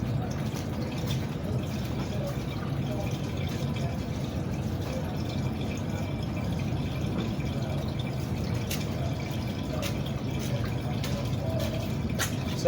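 Water from a glass pours steadily into a home aquarium holding a Chili Red Oscar fish, a soft continuous splashing trickle that stays fairly even throughout.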